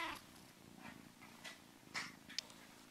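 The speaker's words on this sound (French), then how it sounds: "j'avais une petite vidéo d'un petit chaton" A kitten in a short clip from Twitter, giving a few faint, soft meows and small cries scattered over a quiet background, with one brief sharper squeak near the end.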